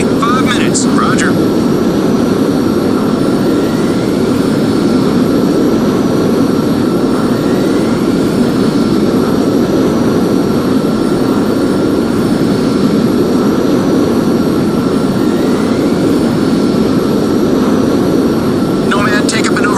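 Jet aircraft roaring continuously in the first-person shooter Crysis Remastered, a steady, loud, broadband engine wash that holds for the whole stretch, with a faint rising whine and brief sharper bursts near the start and end.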